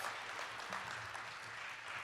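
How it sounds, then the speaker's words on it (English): Brief, quiet audience applause at a renewable energy and sustainability conference, a soft uniform patter of clapping with no clear peaks. "Another round of applause."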